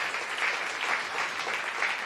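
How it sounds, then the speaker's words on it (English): An audience at a mayor's unveiling of a downtown day services centre claps steadily in a dense, even round of applause that carries on throughout. "So everybody, let's give each other a round of applause because we all did this together."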